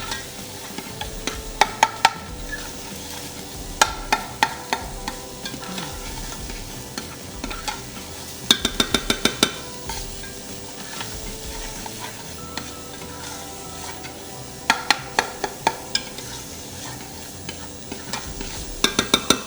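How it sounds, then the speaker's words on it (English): Onions and celery sizzle steadily in a hot pan while a utensil stirs them, giving repeated sharp scraping clicks over a constant frying hiss, close up and with no voices. "So in our pan, start cooking down our onions and celery."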